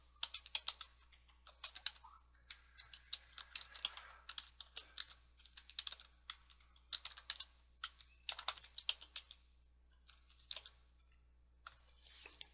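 Typing on a computer keyboard, bursts of crisp key clicks separated by short pauses, close and clear over a faint low hum with no voices.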